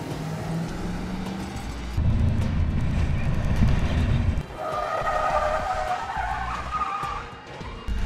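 A truck towing a trailer loaded with several thousand pounds of weight, without weight distribution, at about 20 mph on a test course, producing a loud steady road and engine roar with tire noise that swells mid-way, heard close with no talk.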